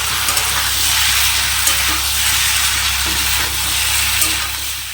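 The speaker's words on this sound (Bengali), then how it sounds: "এখন এদিকে মাছের চচ্চড়িটাও বসিয়ে দিয়েছি, প্রায় হয়ে এসছে" Fish chorchori with potato, eggplant, drumstick and ridge gourd simmering in a pan, giving a steady, close sizzle and bubbling hiss that runs evenly throughout with no talk.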